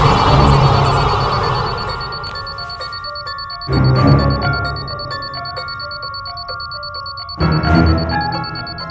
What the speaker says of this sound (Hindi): अलार्म क्लॉक की आवाज फोन में?